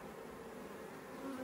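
Honey bees buzz on brood frames pulled from a hive, a brief, soft, steady drone heard close with no talking.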